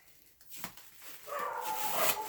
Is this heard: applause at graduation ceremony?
no